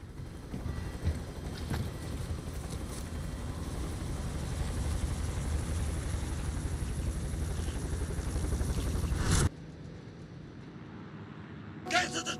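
A helicopter in a video game, heard as a steady whirring drone with wind noise that runs for several seconds and then cuts away abruptly, leaving a quieter background and a brief thump.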